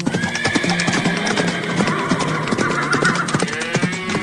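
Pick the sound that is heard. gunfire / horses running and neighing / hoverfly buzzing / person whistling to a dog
horses running and neighing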